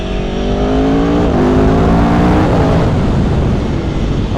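A 2018 Aprilia Tuono V4 1100 Factory motorcycle being ridden, its V4 engine rising steadily in pitch through a gear under acceleration, loud and close with constant wind noise.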